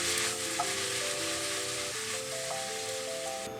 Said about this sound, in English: Introduce the broccoli and onion. Let that simmer.